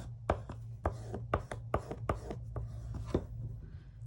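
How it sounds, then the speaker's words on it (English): Tape is burnished down onto a watercolour guestbook or travel journal with a run of about ten quick, close, quiet rubbing strokes in an uneven rhythm over a low steady hum. "I'm burnishing this so that the tape sticks"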